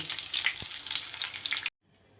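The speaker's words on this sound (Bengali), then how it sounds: "দুটো আলু দিয়ে দিলাম আলুগুলো সুন্দর করে একটু লাল লাল করে ভেজে নিল" Potatoes fry in a pan with a steady, close crackling sizzle and faint stirring for under two seconds, then stop abruptly into near silence.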